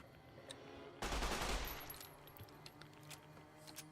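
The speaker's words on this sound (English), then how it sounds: "It's a Mark III turret." A Mark III turret firing in Fallout: New Vegas, one loud burst of rapid gunfire lasting about a second, followed by fainter scattered shots and clicks with no talk.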